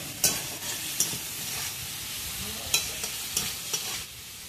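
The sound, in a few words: pointed gourd pieces frying and sizzling in oil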